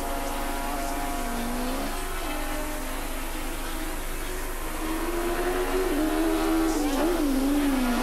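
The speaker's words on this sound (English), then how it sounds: "and Bosman lapping faster now, down into the 63s." Racing sidecar motorcycles lap the Calder Park circuit in a 1986 race, their engines droning loudly and continuously with pitch rising and falling as they accelerate and shift.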